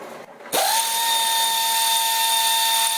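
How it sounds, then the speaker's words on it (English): Air ratchet spinning out long 8mm clutch cover bolts on a sport quad, a sharp onset followed by a loud, steady pneumatic whir held close for the rest of the stretch. "we're going to use an air ratchet to do the job."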